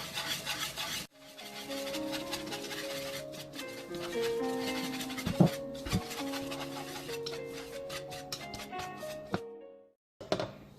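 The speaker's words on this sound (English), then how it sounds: "add all those dry ingredients together: flour, salt, cornmeal, and baking soda, and whisk them together." Flour, salt, medium-grind cornmeal and baking soda are whisked together in a bowl for gluten-free sweet cornbread, giving a steady scraping, rubbing sound with a few sharper knocks, close and continuous for about nine seconds before stopping.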